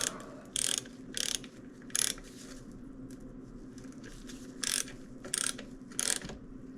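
A ratchet tightens the bolt on a OneUp V2 dropper post fitted to a Trek Farley bike, with short bursts of quick clicking separated by pauses, close and fairly quiet.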